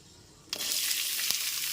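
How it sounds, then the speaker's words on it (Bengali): Chopped onions hit hot oil in a pan after tempering spices, bursting into a loud, steady sizzle that starts abruptly and carries on with crackling pops. "ফোড়নটা এখানে হালকা করে ভেজে নেওয়া হয়ে গেছে এরপর এর মধ্যে পেঁয়াজ কুচিগুলোকে দিয়ে দিচ্ছি"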